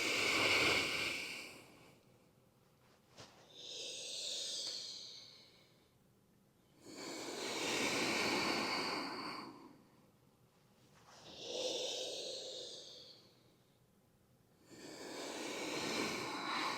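Deep breathing during a cat-cow exercise: slow, close, airy inhales and exhales alternating in a steady rhythm, each lasting a few seconds, with pauses between them and no talking.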